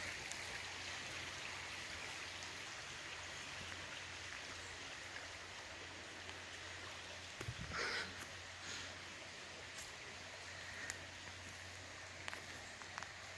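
Stream water flowing steadily through Lithia Park in Ashland, a continuous close rush of water with no voices, with one brief rustle or splash midway.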